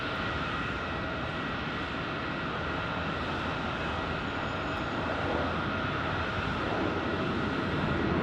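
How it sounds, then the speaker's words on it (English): A Boeing 737-800 lands on runway 25 left at Phoenix Sky Harbor, a loud continuous roar of jet engines and rushing air that builds slightly toward the end, with no talk over it. "We get a 737-800 landing here on the west. Or 25 left runway."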